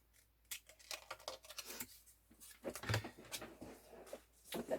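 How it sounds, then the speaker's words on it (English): Scissors trimming paper while building a handmade baby album, a run of short crisp snips and cuts, close and fairly quiet, with no talking. "Trim this down."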